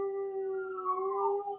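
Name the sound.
dogs howling in the background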